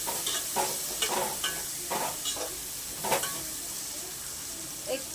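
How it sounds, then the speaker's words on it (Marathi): Chopped onions fry in a pan for a home vegetable biryani, a soft sizzle running throughout while a spoon scrapes and stirs in several distinct strokes. "कांदा छान फ्राय होतोय"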